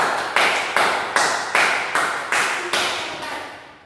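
A classroom group claps in seven or eight distinct rhythmic bursts, steady and fairly close, each clap loud and sharp before fading, with no talking over them.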